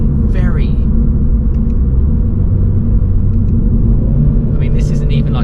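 A Mini Cooper S Resolute Edition 5-door car drives along with a steady low engine and road rumble, heard from inside the cabin while a person talks over it.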